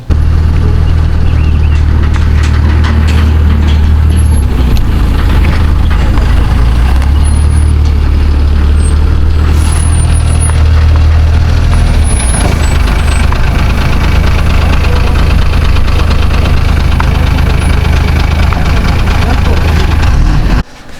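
Police truck engine rumbling steadily with air brake hisses, loud and close, with voices talking over it at a court recount venue.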